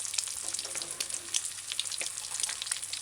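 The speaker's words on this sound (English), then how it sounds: "Let the oil fry it up, and then it'll be easier to flip." An egg fries in oil in a non-stick pot, sizzling and crackling steadily with a dense, hissy spatter throughout.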